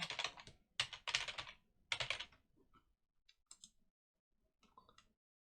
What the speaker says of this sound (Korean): 구글 검색창에 호스팅KR이라고 입력합니다